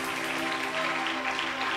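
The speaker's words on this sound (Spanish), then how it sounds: "Dale fuerte el aplauso al que vive," A church congregation claps together during an anniversary service, a dense, steady wash of applause mixed with faint crowd voices and some tonal ringing underneath.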